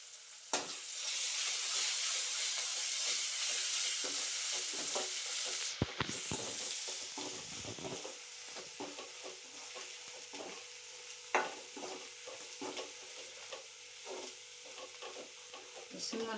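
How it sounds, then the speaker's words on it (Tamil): Masala sautéing in a pan with coriander and turmeric powder, a steady bed of sizzling frying under repeated scraping stirs of a spoon, with a couple of sharp clanks against the vessel, close and continuous. "மல்லித்தூள் போட்டுக்கலாம். மஞ்சத்தூள் கொஞ்சம் போட்டுக்கலாம். இப்போ நல்லா வணக்கி விடுங்க."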